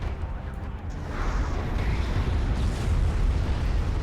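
Missile barrage in a space strategy game, a rumbling wash of overlapping explosions that swells after the first second and stays loud and dense to the end.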